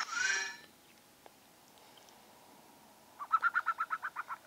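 Bird-like dragon creature call from the video game Ecolibrium: a loud rising, harmonic squawk at first, then after a pause a quick run of about nine chirps, close and clear.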